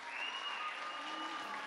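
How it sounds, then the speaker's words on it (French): A school talent-show audience gives a final round of applause for all the performers, a steady wash of clapping from a crowd with a faint sustained tone running underneath and no talking. "Une dernière main d'applaudissements pour tout le monde."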